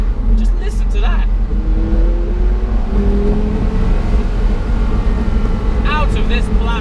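Loud, continuous V10 engine drone inside a Porsche Carrera GT, with rising and falling rev tones and brief bursts of voices over the rumble.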